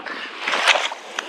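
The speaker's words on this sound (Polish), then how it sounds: "słychać szum morza" Sea waves heard from a quiet bay near Jastarnia, a soft continuous hiss of surf with gentle splashy swells, fairly even and faint, with no voices.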